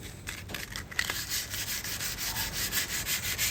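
220-grit wet and dry sandpaper rubbed by hand across a surface in a workshop, a close, rhythmic rasping of quick back-and-forth strokes, about five per second, with no talking.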